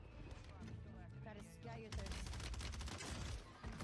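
Rapid gunfire crackles in Warzone 3, with dense bursts of shots that intensify and layer together over game sound and a talking voice.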